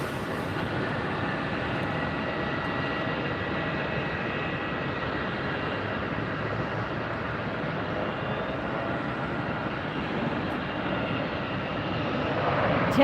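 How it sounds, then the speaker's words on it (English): A Southwest Boeing 737-8 arriving from Providence lands at Tampa airport, its engines a continuous, moderately distant jet roar that holds steady and swells slightly louder near the end, with no talk. "This is Southwest Flight 1151 coming in from Providence, Rhode Island, a 737-8"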